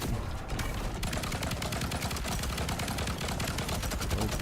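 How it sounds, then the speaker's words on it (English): Enemy gunfire in the video game Primordialis, a dense, loud, continuous barrage of rapid shots pounding without pause, close and heavy throughout. "He's firing out a lot of bullets."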